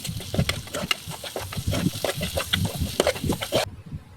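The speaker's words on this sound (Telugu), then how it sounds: "వేసుకున్న తర్వాత ఇప్పుడు అన్నిటిని కలుపుకుందాం." Coconut powder and coriander powder being mixed into a mutton curry base in a pan, busy close stirring scrapes and soft sizzling with uneven knocks, stopping abruptly near the end.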